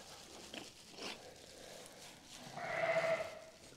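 A newborn Valais Blacknose lamb gives a short, faint bleat near the end, heard against quiet barn ambience with a few soft rustles.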